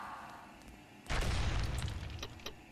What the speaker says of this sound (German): Da dachte ich mir schon, dass die explodiert.